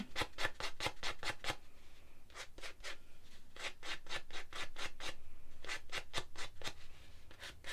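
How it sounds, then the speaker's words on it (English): Sandpaper rubbed over a small tapered metal pin edge in quick bursts of short strokes, rhythmic scratchy rasping in groups with brief pauses, close and steady, no speech. "now I'm just going to grab some of my sandpaper and just smooth it out"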